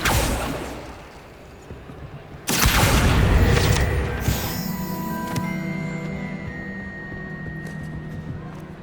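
A casting whoosh erupts into a loud fiery boom for the Incendio spell in Hogwarts Legacy, then decays into crackling, ringing magical tones and scattered clicks.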